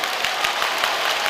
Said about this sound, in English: Even on fouls, the crowd applauds.